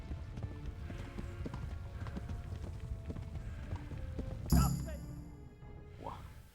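A horse clip-clops steadily along in the medieval game Kingdom Come: Deliverance, hoofbeats close and even, broken late by a sharp burst and a whinny-like sound.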